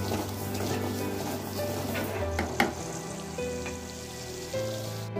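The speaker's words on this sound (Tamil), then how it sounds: "உப்பு சேர்த்து நல்லா வதக்கிக்கங்க. நல்லா சிவக்கும்படி வதக்கிக்கலாம்." Onions sauté with salt in a pan, a steady, close crackling sizzle that runs throughout, with a low background hum and a light clink of stirring midway.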